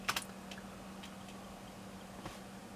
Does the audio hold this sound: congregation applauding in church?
no